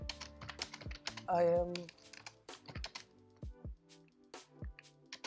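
Python code being typed on a computer keyboard: a fast run of light key clicks continuing throughout while someone talks over it.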